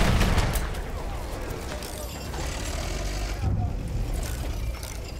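Distant artillery fire rumbles through a Battlefield 1 battle, with a heavy boom at the start and another around the middle over a continuous bed of low battlefield noise and faint voices.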